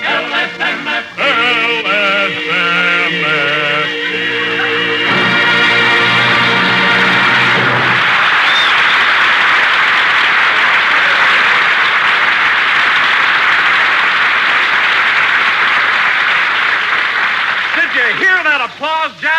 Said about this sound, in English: Don, I don't care if they applaud all night.